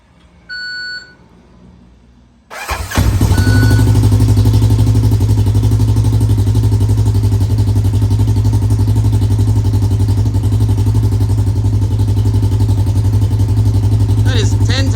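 A Polaris RZR XP1000 fitted with a GGB exhaust cranks and fires up in a garage after a couple of short beeps, then settles into a loud, steady, deep idle that holds close and constant for the rest of the clip.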